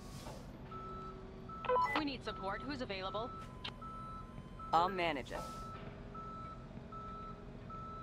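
A tow truck sounding its reversing beeper in Police Simulator, with steady, evenly spaced beeps running through the clip while voices talk over it.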